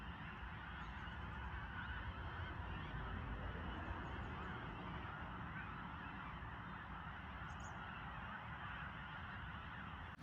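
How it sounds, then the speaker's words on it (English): A flock of geese and other waterfowl honk and call across a lake, a dense, continuous chorus carrying steadily from a distance with no talk over it. "I don't know if you guys can hear the birds or not."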